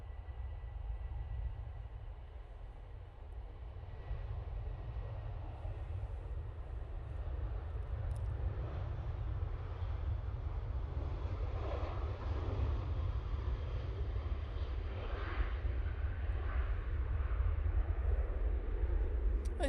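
A Ryanair Boeing 737-800 departing Manchester Airport for Belfast, a continuous low jet rumble at a distance, gradually growing a little louder over roughly twenty seconds, alone without voices.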